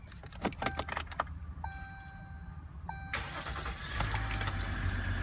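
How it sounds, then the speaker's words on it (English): A 2016 Ram 1500 Outdoorsman 4X4 pickup is started with a key: keys jangle, ignition chimes ring, then the engine cranks and catches into a rising idle rumble, heard from inside the cab without speech. "There we go, now the vehicle's started up."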